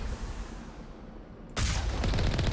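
Gunfire in the Mass Effect video game opens abruptly after a stretch of low rumbling ambience, becoming a loud, dense, continuous burst of shots that fills the rest of the moment.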